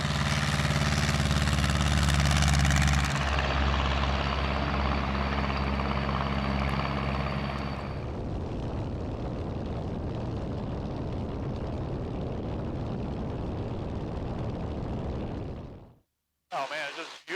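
An Aeronca Super Chief light airplane drones loudly in flight around the pattern, a steady engine roar that shifts to a lower, rougher tone midway, holds for several seconds, then drops out abruptly.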